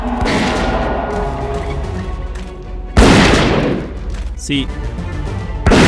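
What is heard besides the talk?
shooting rats that explode in the video game Zeno Clash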